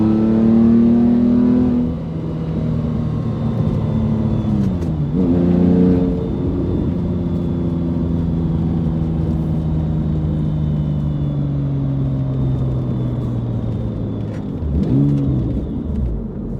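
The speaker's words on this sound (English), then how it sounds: "You can listen to the exhaust note." Exhaust note from a 2005 Porsche Boxster fitted with a 4.3-liter R43 engine, driving uphill: a deep, steady droning rumble with a few revving surges and gear changes, heard close from inside the car for the whole stretch.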